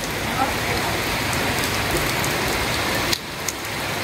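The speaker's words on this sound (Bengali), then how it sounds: "ঝপ ঝপে বৃষ্টি নামে পড়ছে" Heavy rain pours down in a dense, steady roar, broken briefly by a sharp knock near the end.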